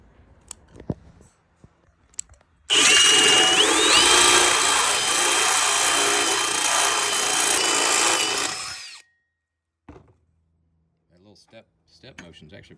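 A power drill widens a hole in a light fixture while fitting a toggle switch, with a loud, steady high-pitched whine that lasts about six seconds. Faint clicks and handling noises come before and after it.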